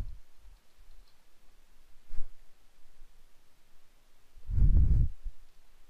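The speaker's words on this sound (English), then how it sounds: "Click on next, next and finish." Computer mouse clicks during setup of a new project in design software: a few faint, sparse taps near the start and a single sharper click a couple of seconds in, then a louder low thump near the end, in a quiet room.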